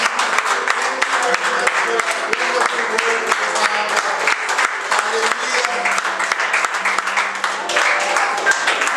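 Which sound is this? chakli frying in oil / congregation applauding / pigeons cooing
congregation applauding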